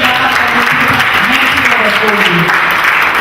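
A seminar audience applauds loudly and steadily in a hall, a dense continuous wash of clapping with a voice speaking over it.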